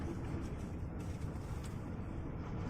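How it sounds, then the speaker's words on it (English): Wind howls steadily on a rainy, windy day, a broad, constant roar with slight gusting swells that hold at an even, moderately loud level for the whole few seconds, with no voices over it. "that's the sound of the wind howling"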